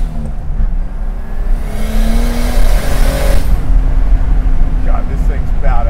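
A 1972 BMW 2002 Turbo with a swapped E30 engine making 430 hp accelerates under turbo boost, its loud close engine note climbing in pitch with a rushing whoosh, and voices can be heard over it.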